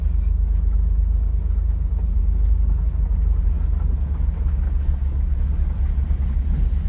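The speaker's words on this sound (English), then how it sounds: "Cruising in a 66 Corvair." A 1966 Chevrolet Corvair with an air-cooled rear engine cruises along, heard from inside as a constant loud low rumble and road drone with no breaks.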